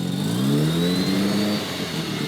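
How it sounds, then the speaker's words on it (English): A car engine with a new turbo revs up and holds, its rising drone mixed with a hissing rush of air leaking from the turbo, loud and close with no talking. "when I went to rev it, I was listening to it like this"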